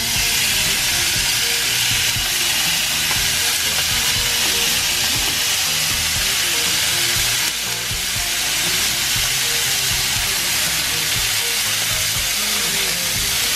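Meat sizzles loudly and steadily in a hot dry pan with no oil, a constant bright crackling hiss close to the microphone without any talking.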